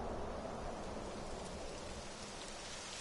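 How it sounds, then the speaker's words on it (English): Steady rain falling in the video game Dragon Quest XI, a dense even hiss of drops on surfaces that holds constant throughout, with no voices. "It would have to go and start raining, wouldn't it?"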